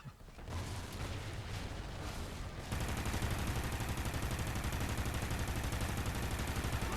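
Sustained gunfire in Call of Duty Ghosts Extinction, a dense rattle of automatic shots that grows louder and heavier partway through, continuous and close with no talk.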